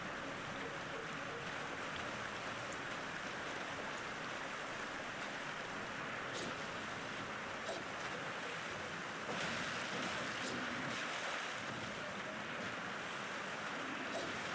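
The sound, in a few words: waterfall in the video game Elden Ring, Siofra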